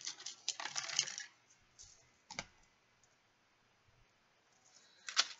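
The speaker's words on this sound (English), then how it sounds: "Just hear me like shuffling through all the junk on my table." Soft clicks, clinks and rustles of small objects being moved around on a hard surface, in scattered bursts with quiet gaps between.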